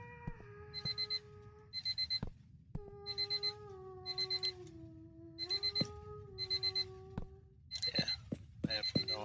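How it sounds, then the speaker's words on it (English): Alarm clock ringing inside the paranormal investigation video game Paranormal Investigators, repeating rapid bursts of bright beeping in a steady pattern, several in a row, over low hum and tones from the game. "Okay, that alarm clock's gonna drive me batty."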